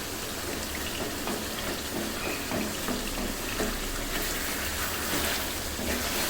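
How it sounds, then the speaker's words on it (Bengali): Tangy-spicy-sweet beef cooking in a pan: a dense, steady sizzle and crackle that holds unbroken at even loudness throughout, close by, with no speech. "আমি কিন্তু ধাপে ধাপে দিয়ে দিয়ে মাংসটা রান্না করছি"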